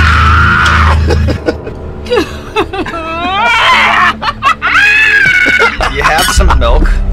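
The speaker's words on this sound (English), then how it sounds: "Her scream even gargled." A woman reacts loudly to the pain of extremely hot sauce on a hot wings interview show, with shrill, strained vocal bursts and gasps mixed with laughter and chatter from others nearby.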